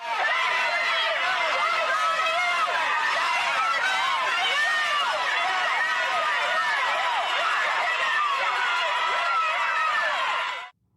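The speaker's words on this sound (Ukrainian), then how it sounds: "на вулиці її тепло зустрів розлючений натовп" An angry crowd on the street outside the Capitol fills the scene with loud, dense overlapping voices and shouting, a continuous roar of chatter that cuts off abruptly at the end.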